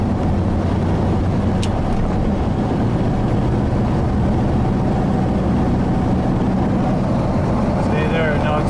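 A 1986 Chevy K10 truck engine runs in fourth overdrive gear, giving a steady, loud, low rumbling drone with road and wind noise that persists throughout.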